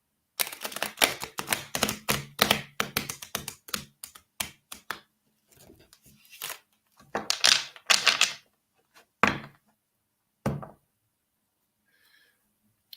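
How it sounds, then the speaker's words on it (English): A deck of tarot cards is shuffled by hand, giving rapid bursts of riffling card clicks followed by scattered slaps and taps, close and crisp with pauses in between. "I'm like going through the process of shuffling the decks all over again as well."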